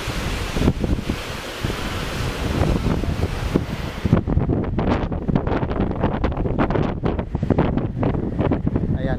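Choppy sea waves and gusting wind roar steadily at a beach resort, with heavy wind buffeting the microphone and a voice talking over the surf.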